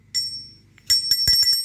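A small bell rings with bright metallic tones, struck several times in quick succession after a brief opening chime.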